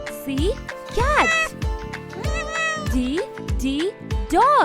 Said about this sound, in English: C, cat.